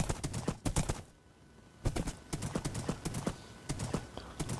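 A horse's hooves clip-clop in a Minecraft-style Bronze Age inspired game world, rapid rhythmic bursts of hoofbeats that pause for under a second and then resume, close and clear.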